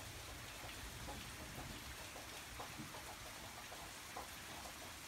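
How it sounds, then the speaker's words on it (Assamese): Heavy rain falls steadily and densely, a continuous broadband wash with scattered drop impacts on a surface, fairly faint and with no voices. "এনেকে বৰষুণ দি থাকিলেনো মানুহবোৰে ক'ত তত পাব হয়"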